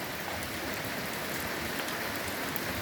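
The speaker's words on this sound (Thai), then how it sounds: "การเพิ่มน้ำแบบง่าย ๆ นะ คือน้ำฝน ในบ่อหอย" Rain falls steadily into a snail pond at a rural home, a dense, even hiss of drops on water and surfaces, continuous and close with no other sounds.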